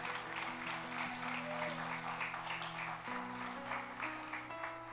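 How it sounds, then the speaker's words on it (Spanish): Congregation applause at a Spanish-language church service, a steady wash of clapping across the whole stretch over sustained music, with a voice present. "Denle ese aplauso al Señor"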